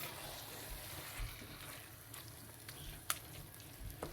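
Aloo keema mince frying in a pan while being stirred, a steady close sizzle with faint scraping and a sharp clink of the spoon near the end, no voices.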